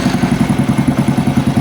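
A Honda C100 motorcycle fitted with a replica Keihin carburetor runs close by after its electric start, its small engine putting out a steady, loud, rhythmic chugging with some mechanical clatter.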